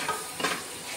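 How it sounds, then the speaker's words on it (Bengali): Spice paste for a home-style Bengali green jackfruit curry sizzling and being stirred in a pan, soft continuous frying hiss with a few scraping stirs, close and fairly quiet, no talking. "এই মশলাটাকে আমি আর একটু 2 মিনিট মতো কষে নেব।"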